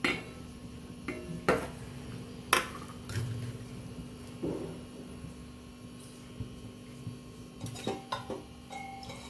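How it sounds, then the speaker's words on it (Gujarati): Stuffed green chilies, made without gram flour, are turned on an iron griddle, producing sparse metallic clinks and taps against a quiet background hum. "આજે આપણે લોખંડની તવીમાં આપણે મરચાંને શેકવાના છે"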